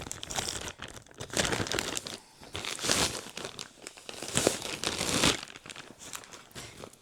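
A plastic-wrapped parcel holding a red sweater is opened up close, with bursts of loud crinkling and crumpling plastic and short tearing sounds, coming in uneven waves with brief pauses.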